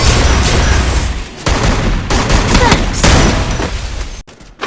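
Loud, close gunfire in a competitive mobile shooter scrim with Woodpecker rifle headshots: dense crackling bursts fired in rapid strings, with brief gaps between volleys and a sudden drop-off at the end.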